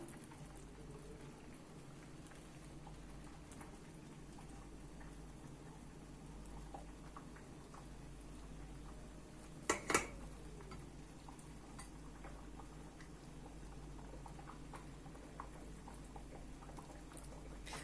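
Low, steady bubbling of thick rose jam boiling in a pot, with a brief clatter midway.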